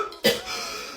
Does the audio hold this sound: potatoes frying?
no